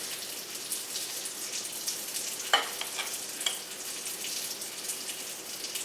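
Sausage frying in a cast iron pan gives a steady, fairly quiet sizzle with a few sharper pops and crackles, and no voices over it.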